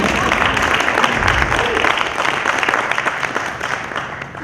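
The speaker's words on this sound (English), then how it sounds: "Okay, so Charmaine, hold your applause, but you have to applaud Charmaine" An audience at a Lekgotla institutional development plan gathering breaks into dense, sustained applause, a broad wash of many hands clapping that stays loud and gradually eases toward the end.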